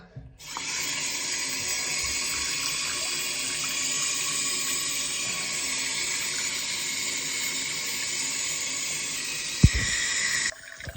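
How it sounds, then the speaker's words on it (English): Cold water runs from a tap into a plugged sink, a steady close splashing rush that holds evenly for about ten seconds before cutting off, with a small clunk near the end. "So you got to start by putting the plug in your sink. And then turning on the cold tap up to like here"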